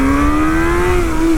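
MV Agusta 1090 Corsa motorcycle engine revving, a loud, close, steady high-pitched howl that rises slowly in pitch as the throttle opens.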